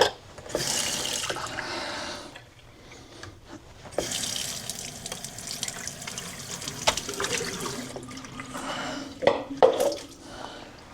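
Tap water runs into a sink in gushing bursts, loud at first, pausing briefly, then flowing steadily again with splashes and drips near the end.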